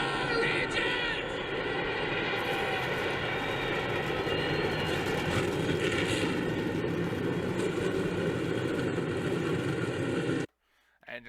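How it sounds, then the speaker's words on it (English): Stock car engines fire up at Talladega in a NASCAR racing video game, a loud, continuous droning roar with steady tonal layers that runs unbroken before cutting off abruptly near the end. "Engines are fired here at Talladega"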